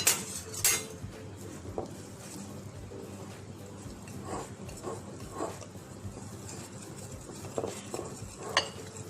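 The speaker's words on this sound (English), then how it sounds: "and then I will whisk it softly" Dhokla batter being whisked with salt and baking soda in a bowl, with soft irregular clinks and scrapes of a utensil against the container over a low background hum.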